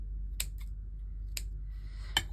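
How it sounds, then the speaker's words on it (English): Scissors snipping white feathers while trimming journal page tags: three sharp, close, isolated snips spaced about a second apart over a quiet background. "Just let me get my scissors because these are way too big"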